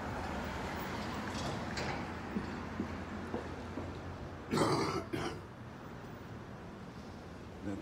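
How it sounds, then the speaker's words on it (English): A short burst of two harsh coughs, close by, standing out briefly from a steady low background hum. "That was a cough."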